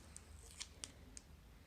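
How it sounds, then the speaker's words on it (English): A few quiet, crisp scissor snips at the edges of a small paper spinner from a take-home craft kit, three or four short clicks spaced irregularly over a faint background. "you can cut away any sharp edges with a pair of scissors"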